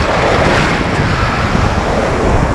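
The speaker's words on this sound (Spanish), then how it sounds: "las olas están bravas" Strong ocean surf at Morro do Careca beach in Natal, Brazil, roars loud and steady, with heavy wind rumble across the microphone and no voices.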